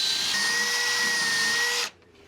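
Power drill countersinking a hole, a single high whining burst held for nearly two seconds before stopping abruptly, close and loud.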